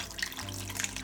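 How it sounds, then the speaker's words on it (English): Sauce pours onto onions in a stainless steel pan with a soft, continuous liquid splash and gurgle, quiet and close. "Now just pour the sauce on top of the onions."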